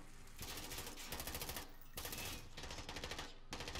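Automatic gunfire in the Call of Duty: Modern Warfare campaign, several rapid bursts of fire separated by short pauses, fairly close and crisp, with no talking over them.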